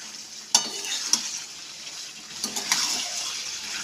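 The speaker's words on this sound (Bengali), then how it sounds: "আবার একটু ভালোভাবে কষিয়ে নেব।" Fish head masala with Kashmiri red chilli powder and green chillies is stirred and sautéed in a pan, a soft steady sizzle broken by a few sharp scraping clinks of the spatula.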